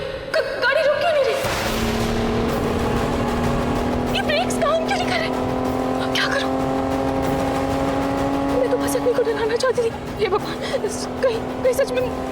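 A car drives on with failing brakes, its engine holding a steady drone that rises slightly, with tire noise and voices mixed in over the motor.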